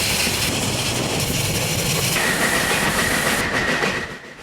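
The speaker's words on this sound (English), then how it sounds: "The train came steaming in." A steam train arriving rumbles loudly and steadily with a continuous rushing roar and rattling wheels, a faint high tone rising near the end as it fades slightly.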